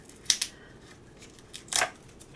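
Small price tags are ripped off artificial flowers in quick, crisp tearing bursts, two close together and then one more, with quiet in between.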